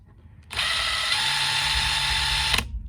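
A DeWalt DCF850 cordless impact driver whirs loudly for about two seconds with a harsh, buzzing rattle, starting and stopping abruptly, close up with no speech.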